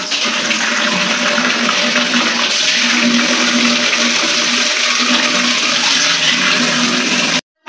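Water gushes steadily from a motor pipe into containers, a loud, continuous rushing flow with a faint hum underneath that runs without pause until it cuts off at the end.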